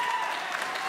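Crowd applause at a squash match, a brief burst of dense clapping, fairly loud and steady, with a voice faintly present beneath.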